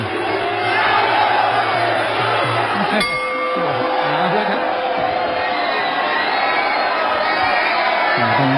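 Crowd of students cheering and shouting for the blue-corner boxer at a Muay Thai fight at Rajadamnern stadium, a loud sustained roar of voices with a brief clink partway through.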